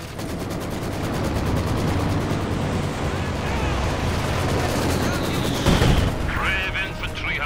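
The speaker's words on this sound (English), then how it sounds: "Airstrike has been authorized." Dense airstrike explosions and gunfire in a Red Army war video game, a continuous loud barrage of booms and rattling shots with a heavier blast near the end, mixed with game voice chatter.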